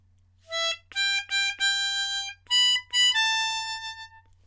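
A C diatonic harmonica plays the second line of a song, a short phrase of sustained reedy notes with brief breaks between them, clear and alone over a faint low hum.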